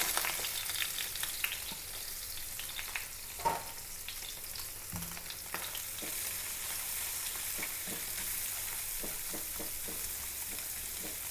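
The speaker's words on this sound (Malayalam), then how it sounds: "പള്ളത്തി ഞാൻ കുറച്ചെടുത്ത് വെട്ടിയെടുത്തട്ടാ വറുക്കാനായിട്ട്" Marinated pallathi fish sizzling steadily in a pan of hot oil, with scattered crackles and a few soft knocks of a utensil, no voices.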